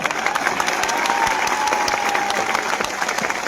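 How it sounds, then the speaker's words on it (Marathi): A crowd at a live gathering of students and parents bursts into dense, sustained clapping, loud and close, with no voices over it. "एकदा जोरदार टाळ्या होत्या आपल्या मायबापासाठी"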